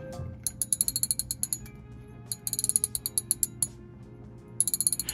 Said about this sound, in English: Let's check the drag sound next.